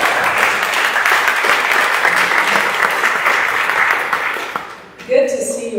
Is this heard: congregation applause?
yes